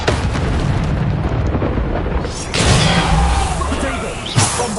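A Bombarda spell explosion in Hogwarts Legacy bursts loudly halfway through, rising out of steady combat rumble and whooshes. A smaller crack lands near the end, and a voice can be heard among the noise.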